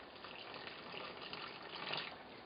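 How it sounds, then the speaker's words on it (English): Water poured into a measuring cup while preparing grain-free tortillas, a soft continuous gushing trickle, faint and close, swelling slightly near the end. "I'm going to put a cup of water in my measuring cup"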